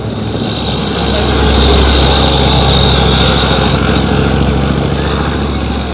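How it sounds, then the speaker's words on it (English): A Leopard 1 A1 tank's big MTU diesel engine, mounted at the rear, rumbles loudly and steadily with a deep low throb and broad exhaust roar that swells slightly as it accelerates. "That rumble of that thumping great MTU diesel engine in the back there"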